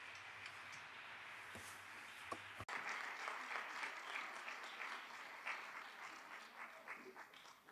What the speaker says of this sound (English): So a big applause for everyone.